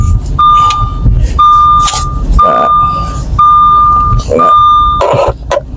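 The passenger seatbelt warning in a 2010 Audi A4 B8 chimes five times in an even, steady rhythm, each tone clear and close inside the cabin, while a person talks over it.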